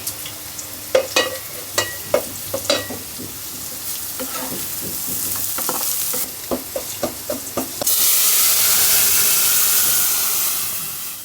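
Cumin, onion and dried chili fry in oil for dal, sharp spatula clacks and stirring over a constant sizzle, which swells into a loud, steady hissing sizzle near the end; no one talks.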